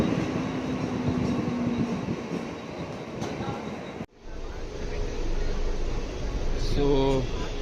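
A Mumbai local train runs, likely in from Borivali. Its wheels and carriages rumble continuously and nearby. A brief dropout comes midway, then a short high squeal near the end.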